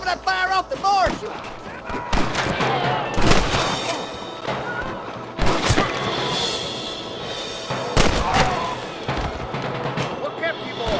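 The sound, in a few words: gunfire in the video game Red Dead Redemption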